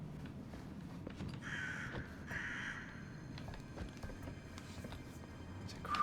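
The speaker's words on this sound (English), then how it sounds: "There's a crow in here." A crow caws twice inside The Casting of Frank Stone, a pair of harsh calls rising clearly above a low ambient game drone, with footsteps and faint movement scattered underneath.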